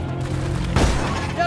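A double-barrel shotgun blasts in Deep Rock Galactic, one heavy, close shot bursting out amid ongoing game noise, with a voice talking underneath.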